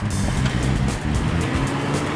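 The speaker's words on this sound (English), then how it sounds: "Because as you will know, there's a lot of traffic." Steady road traffic rumble from cars and trucks flows past during a first ride on a Vaast E/1 e-bike, a dense continuous low roar close by with no talking.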